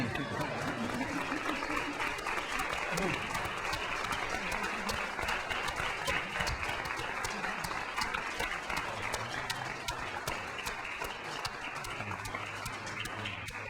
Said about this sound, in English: And you can applaud as I sign it.